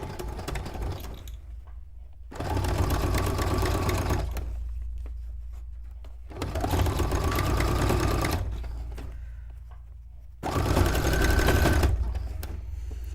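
A sewing machine stitches through wool felt in three sustained runs of steady, close mechanical whirring and needle chatter, each separated by a brief pause.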